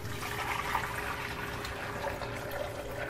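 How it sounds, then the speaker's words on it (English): Chicken broth is poured into a pot for a homemade pot pie, a continuous liquid gush and splash held at an even, fairly quiet level for the whole stretch. "so you're gonna pour your chicken broth"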